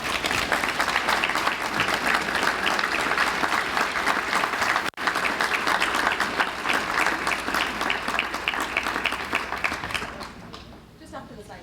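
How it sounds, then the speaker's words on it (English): Big, loud round of audience applause at a nonprofit annual meeting as small business grant recipients head to the stage, dense steady clapping that carries on for about ten seconds before thinning out. "let's give them a huge round of applause"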